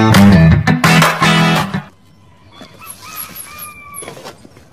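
Backyard chickens and ducks squawking and honking loudly in a rapid burst, then fading to quieter scattered calls and faint high chirps.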